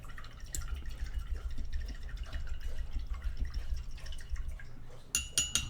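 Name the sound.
rinsing a paintbrush in water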